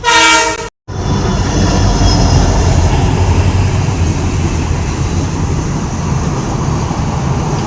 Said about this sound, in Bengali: দেখুন ট্রেন যায়, এই দেখুন।